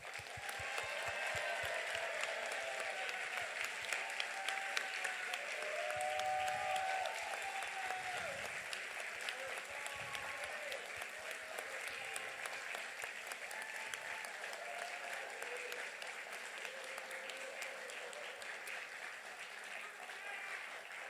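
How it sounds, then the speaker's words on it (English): Graduates of a health and science college receive a long, dense round of applause at a 2024 graduation ceremony in San Diego. The clapping holds steady throughout, with faint crowd murmur and voices beneath it. "Let's give them one final applause."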